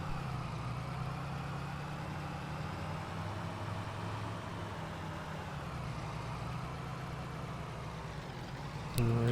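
A truck engine idles in the video game Farming Simulator 22, a steady low rumble held close and constant, with a brief clank near the end.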